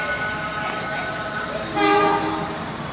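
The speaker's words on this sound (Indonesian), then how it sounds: "Kereta api Argo Sindoro tujuan Gambir" Argo Sindoro passenger train passing close through Manggarai station, a sustained horn blast over rolling wheels and faint squealing, loud and near.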